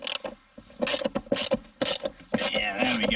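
Ratchet tightening a nut on a car seat during restoration of a 1974 BMW 3.0CS (E9), heard as repeated close mechanical clicking and creaking bursts in a quick uneven rhythm, with some faint voice.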